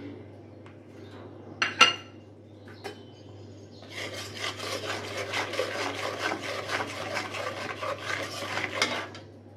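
Spice paste of ground onion, chili, turmeric, salt and cumin fried in oil and stirred in a pan for a Bengali fish curry: steady scraping and rubbing strokes with a soft sizzle, starting after a few clinks and continuing close and even.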